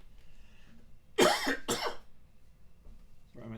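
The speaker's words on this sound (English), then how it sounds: "my throat starts getting dry and then I start coughing." Two sharp, close coughs from a dry throat, a brief pause, then a softer throat sound trailing off at the end, in a quiet office.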